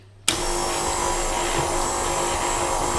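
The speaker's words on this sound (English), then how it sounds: "Whisk again about 2 minutes until light and fluffy." An electric mixer starts abruptly and whisks cake batter with grated carrots, vanilla and dates, then holds a steady, loud motor whine close by without interruption.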